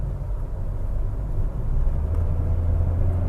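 Tata Altroz DCA automatic hatchback downshifting while driving, heard from inside the cabin as a low, steady engine rumble that swells slightly partway through, with no talking.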